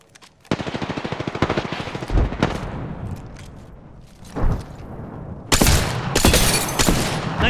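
Rapid automatic gunfire from a weapon in the online shooter Apex Legends, a fast burst of evenly spaced shots followed by scattered louder single shots and bursts, close and loud.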